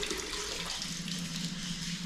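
Salted codfish is rinsed under running water to wash off excess brine, a steady close splashing stream from a faucet in a kitchen sink.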